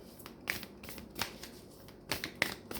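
Tarot cards are shuffled by hand in quiet, soft bursts of riffling and flicking, a few short crisp rustles spaced apart, close and faint with no talking.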